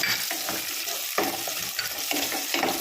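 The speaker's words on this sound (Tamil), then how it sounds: "இதில் சின்ன வெங்காயம் போட போகிறோம். அது நல்லா வதங்கணும்." Small onions sauté and sizzle in a pan for amla pappu, a steady close hiss of frying with a few soft stirring scrapes and no voices.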